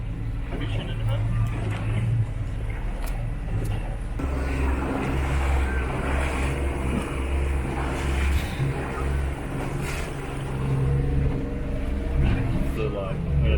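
A motor on a fishing boat heading out from Tootgarook Beach, Victoria, droning steadily under continuous wind and water noise, with people talking over it.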